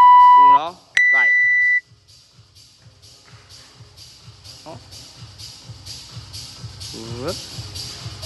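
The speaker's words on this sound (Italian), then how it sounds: "Faccio partire il timer." A timer gives a short tonal beep followed by a longer sustained beep to start, then people move and talk quietly in the background.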